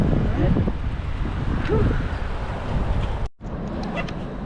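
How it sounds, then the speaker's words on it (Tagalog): Gusty wind buffets the microphone with a rough, rumbling roar while cycling by the sea, briefly cutting out before resuming, while someone speaks underneath. "Medyo mahangin ang panahon ngayon, di ba?"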